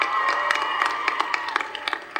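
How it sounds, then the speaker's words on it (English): An audience at the 2009 White House Star Party, gathered outdoors, claps for a Hubble telescope repair astronaut, producing a steady patter of many hands with sharper individual claps standing out, moderately loud. "So give John a big round of applause."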